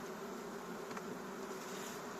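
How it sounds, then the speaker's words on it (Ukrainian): A dense, steady buzz of many honey bees on hive frames fills the air, a continuous low droning hum with no voices. "бджоли почнуть на них вилазити"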